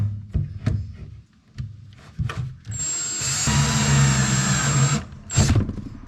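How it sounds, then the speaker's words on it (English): A step drill bit bores through a plastic jerry can, starting with a few knocks and handling sounds before a loud, steady whine of the drill for about two seconds, then a brief second burst. "I'm just going to use a step drill bit to drill her out."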